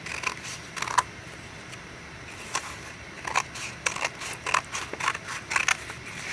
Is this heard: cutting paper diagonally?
yes